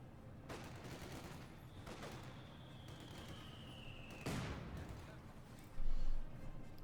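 Sustained machine gun fire and battle noise from the World War II strategy game Company of Heroes 2, German army versus US forces, forming a dense continuous clatter with a louder burst near the end, while a commentator talks over it.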